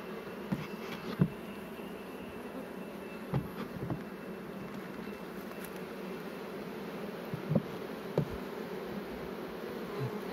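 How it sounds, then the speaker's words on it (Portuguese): Honeybee swarm at an apiary hive, recently merged colonies, buzzing in a steady, dense drone throughout, with a few brief louder knocks and bumps near the hive. "Mas o enxame tá bem mais forte"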